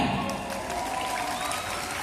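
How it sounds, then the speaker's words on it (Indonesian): Audience applause at a Teachers' Day event in Banda Aceh, a steady wash of many hands clapping together throughout, fairly even in level with no pauses. "udah pada tepuk tangan semua nih"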